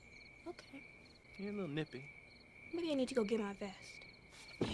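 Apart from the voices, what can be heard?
crickets chirping in the countryside at night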